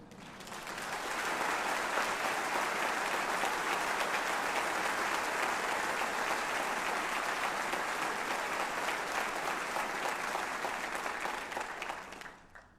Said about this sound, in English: everyone was clapping